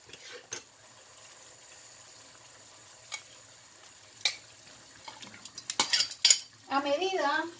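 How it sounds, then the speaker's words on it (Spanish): Chicken is added to a pot for Cuban arroz con pollo: sparse metallic clinks and scrapes, then a burst of utensil clatter that gives way to a steady frying sizzle at the end. "Vamos a ir poniendo nuestro pollo."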